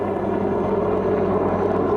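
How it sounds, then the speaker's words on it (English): A helicopter passes overhead in Northern California as a steady, loud, droning rotor and engine rumble with no other sounds or voices. "Noises like this helicopter"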